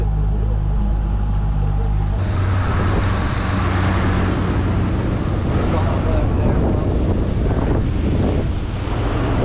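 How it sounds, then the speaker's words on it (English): Wind and choppy waves against a small fishing boat out jigging for cod, a loud continuous rush of wind buffeting the microphone and water slapping the hull, with an engine drone underneath. "Against the wind, and against the tide, and against the waves."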